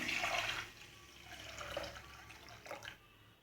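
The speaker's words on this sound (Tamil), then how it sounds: "3 டம்ளர் தண்ணி ஆட் பண்ணியிருக்கேன்." Water is poured into a pressure cooker holding soaked rice and lentils for ven pongal, a soft splashing pour in two or three short bursts, close and moderately quiet, with no talking.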